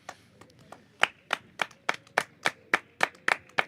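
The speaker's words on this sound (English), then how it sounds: "That'll be 50 runs is the cheer you hear." A small cricket crowd claps for a batsman reaching fifty in an Intermediate Cup match, about a dozen sharp, fairly close claps in an uneven run with no voices.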